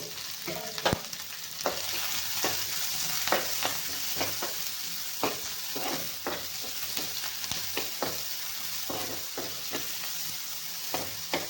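Onions sauté in oil in a pan for misal, a soft, steady sizzle punctuated by repeated sharp clacks of a spoon stirring and scraping against the pan.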